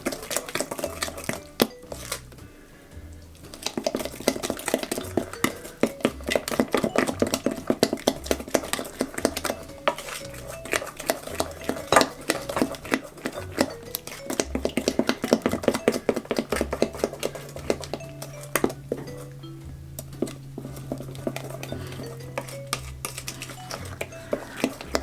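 Plantain bread batter with cranberries and chocolate is mixed by hand in a bowl, producing steady rhythmic tapping and scraping strokes that continue throughout at close range.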